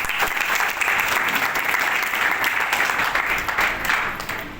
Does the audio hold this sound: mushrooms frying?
no